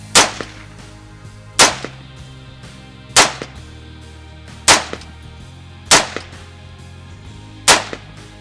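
Six single shots from a Smith & Wesson M&P 15 rifle fired off a shooting rest, each a sharp loud crack with a short decaying tail, spaced roughly every one and a half seconds.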